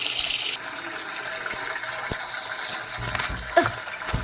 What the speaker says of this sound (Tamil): தண்ணி ஆன் பண்ணிட்டேன்.